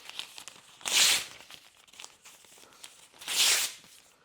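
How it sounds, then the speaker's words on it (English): Newspaper is torn into pieces for papier-mâché, giving two loud, crisp rips about two seconds apart with faint crinkling in between and no talking. "we're gonna have a blast tearing up newspaper"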